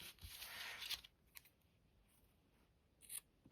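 Scissors snip off a yarn end on a crocheted chunky beanie, giving a faint close cut near the start, a softer click midway and another small snip near the end over quiet room tone.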